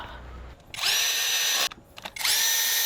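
A cordless drill drives the ignition coil screws on the 2009 Hyundai Equus VS380 MPI V6 engine: two loud, sustained whirring bursts, one near 0.7 to 1.7 seconds and another starting near 2.2 seconds, with a brief gap between them.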